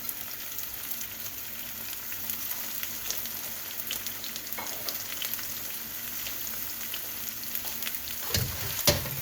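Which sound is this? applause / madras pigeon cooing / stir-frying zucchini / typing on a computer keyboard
stir-frying zucchini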